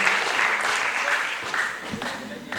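Audience applause for Okapi at a school debate competition, a continuous dense wash of clapping from start to finish with faint voices underneath.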